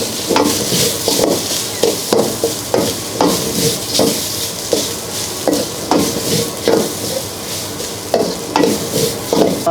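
Rice is stir-fried with Thai green curry paste in a hot pan, with rhythmic spatula scrapes and knocks about every half second over a continuous close sizzle. No one speaks.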